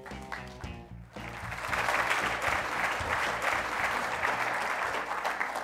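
Audience applause welcoming speaker Hal Harvey at a climate policy talk, a steady wash of clapping that swells after a brief lead-in and holds at full strength.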